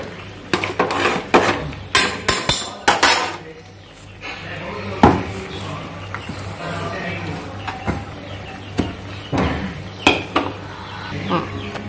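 Gongura curry with boti and rock salt is stirred with a spoon in a pot, giving a run of clanking, scraping metal knocks in irregular bursts, close and fairly loud, with faint kitchen background between strokes.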